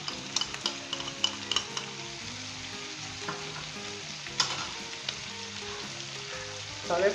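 Chicken coated in ginger garlic paste with green chilies sizzles and fries steadily in a pan, with occasional sharp stirring clinks and a scrape near the end, close and fairly quiet.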